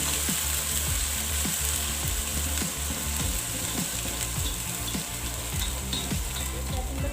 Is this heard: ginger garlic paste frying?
yes